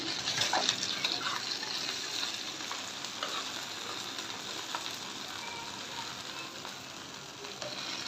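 Mirka and eel fish frying in hot oil, a steady dense sizzle with occasional bubbling pops, close and loud throughout without any talk.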